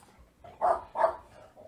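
A dog barks twice nearby indoors, two short loud barks close together, followed by softer trailing sounds.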